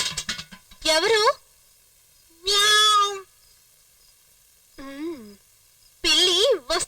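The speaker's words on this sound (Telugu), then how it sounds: "ఏ పిల్లి, వెళ్ళిపో" A cat in a movie scene gives four loud, drawn-out meows spaced by quiet pauses, each close and clear with a wavering pitch.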